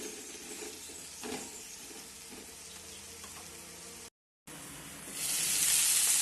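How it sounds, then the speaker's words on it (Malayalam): Capsicum and cauliflower sizzle in a hot pan while being stirred, a steady close frying hiss with faint scraping, cut by a brief gap and then surging louder near the end, with no talking. "ഇനി നമുക്ക് ക്യാപ്സിക്കവും കോളിഫ്ലവറും ഇട്ട് കൊടുക്കാം. നല്ലതുപോലെ ഇളക്കി യോജിപ്പിക്കുക."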